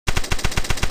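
Rapid machine gun fire in the Counter Attack mobile shooter, a loud, close burst of about eight evenly spaced shots, with no talking.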